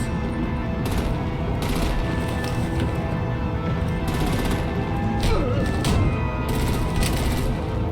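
Artillery fire and vehicle crashes in the Batman Telltale Series video game: a dense, loud barrage of gunfire bursts and booms rolls on without pause over a steady roar of action.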